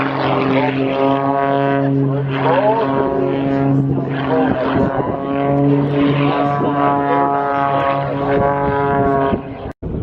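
Propeller aircraft flying aerobatics at an air show, a loud steady engine drone with strong harmonic tones that swell and shift in pitch as the plane maneuvers, continuous throughout with a sudden cutoff near the end.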